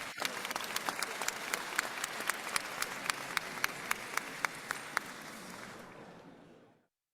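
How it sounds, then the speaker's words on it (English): Applause for the winning team at an online design challenge grand final, a steady wash of clapping with sharp individual claps standing out, holding for about six seconds before fading away to silence. "Round of applause for Team 25."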